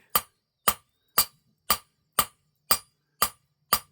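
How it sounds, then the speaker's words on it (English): Eight sharp, ringing strikes of a hammer on hot metal on an anvil land at a steady, even pace, each one crisp and bright with a short ring-off, and nothing else in between. "you can hammer at cooler temperature"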